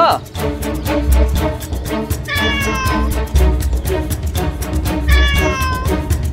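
A black cat meows repeatedly over a busy, music-laden scene from a devotional television drama, with rising tonal cries standing out at intervals above the dense background.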